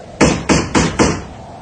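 Four firm, evenly spaced knocks land on a wooden door, loud and close, followed by quiet.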